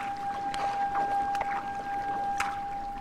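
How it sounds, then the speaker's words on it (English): Canoe paddling in the video game Paws: A Shelter 2, heard as soft, repeated water strokes at a steady rhythm over a low watery background, with a thin constant tone running throughout. "We're paddling like it's a canoe!"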